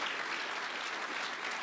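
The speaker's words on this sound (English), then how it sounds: "I think we need a round of applause for the track safety crew that's here tonight" Sustained audience applause at the La Crosse Speedway awards banquet for the track safety crew, a steady even wash of clapping from a packed hall with no voices over it.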